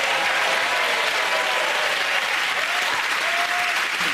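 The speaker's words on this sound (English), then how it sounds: "Give them all a round of applause." Studio audience applause on a comedy panel show, a dense, loud, steady wash of clapping lasting several seconds with faint voices underneath.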